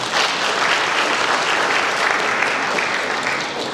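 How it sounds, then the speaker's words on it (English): A dense, steady round of applause from an event audience for a small-business guest, loud and continuous without a break, no talking over it. "Give a round of applause for Ruth."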